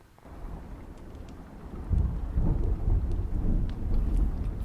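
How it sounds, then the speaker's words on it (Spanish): A rain and thunder sound effect plays softly, with a low rumble that swells partway through, alone and without talk. "Me voy poniendo la lluvia."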